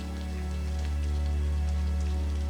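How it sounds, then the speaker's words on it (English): Soft, steady rain falls continuously, an even hiss with a low steady hum beneath it and no voices. "beyond the glass, rain is falling in a calm, predictable way."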